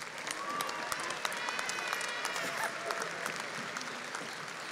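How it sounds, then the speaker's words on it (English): A commencement crowd at Angelo State University applauds the graduates: broad, sustained clapping from a large audience, fairly distant and even, with scattered sharper claps and a few whoops rising out of the wash. "Let's congratulate these graduates with a round of applause."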